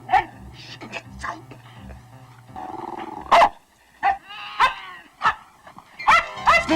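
Small dog barking in an 1980s made-for-TV mouse movie: a run of sharp, loud barks and yips, about six or seven, spaced irregularly and close up, over a faint low hum with some background murmur.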